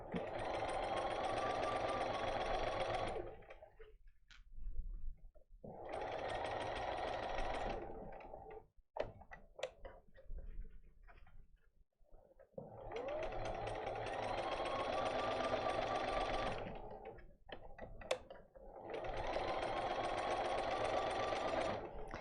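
A sewing machine stitches the seams of a quilted placemat, its steady, loud motor hum running in long stretches broken by brief pauses and small clicks.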